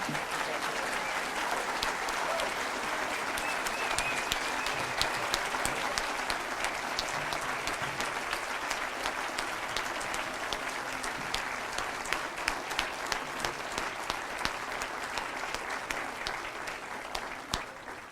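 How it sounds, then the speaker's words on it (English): Loud, sustained applause from an audience at a medical school white coat ceremony for the incoming class, dense even clapping running unbroken for the whole stretch and tapering slightly at the very end. "Let's give a round of applause for the class of 2017."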